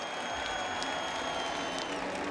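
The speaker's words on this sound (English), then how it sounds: "Let's give him a round of applause." Steady applause from a crowd at the 2014 Indianapolis 500, continuous clapping throughout with no pauses.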